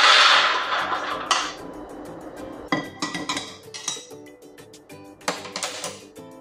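Roasted cashews and almonds being tipped and scraped onto a plate, giving scattered clinks and rattling taps of nuts and utensil against metal, close and irregular in short bursts.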